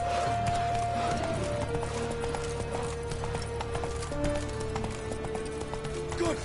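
Roach, the horse in The Witcher 3, gallops with a steady, rapid clip-clop of hooves that runs the whole time under a continuous game soundscape, with no talk.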